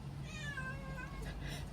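A giant cat gives a single drawn-out meow, wavering in pitch, close and clear over a low steady hum.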